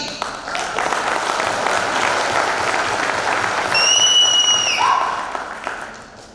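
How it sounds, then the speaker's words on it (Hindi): Audience applause fills a corporate training session hall, steady dense clapping from a crowd over several seconds, with a few sharp whistles cutting through near the end as it fades. "अपने आंखों के लिए इतना ताली."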